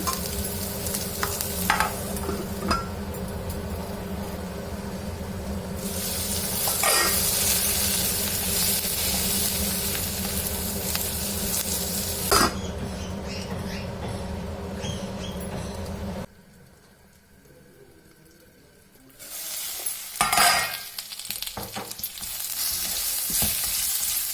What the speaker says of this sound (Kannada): ಕ್ಯಾಪ್ಸಿಕಮ್ ಬೇಯೋ ತನಕ ಹಂಗೆ ಫ್ರೈ ಮಾಡಬೇಕು.